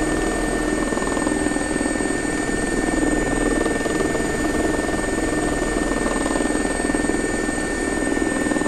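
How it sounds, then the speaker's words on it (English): A GRX Design Gazelle helicopter in the X-Plane flight simulator, its rotor and turbine giving a steady, loud, unbroken drone with a constant high whine, with no voices over it. "This is the GRX design gazelle for X-Plane."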